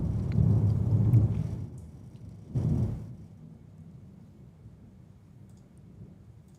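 A severe thunderstorm: deep rolling thunder over steady rain, with a second short rumble partway through, then the rain fading to a softer patter. No voices.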